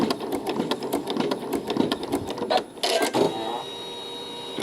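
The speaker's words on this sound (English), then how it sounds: "It sews the tack down stitch and moves on to the next section" A sewing machine stitches a tack-down stitch on a quilt, a rapid even run of needle clatter that stops briefly, gives a short final burst and then settles into a steady motor hum.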